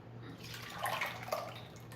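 Pancake batter for vegan teff pancakes is poured from one bowl into another, making a soft, close glugging and dripping of thick liquid that swells briefly in the middle and then trails off.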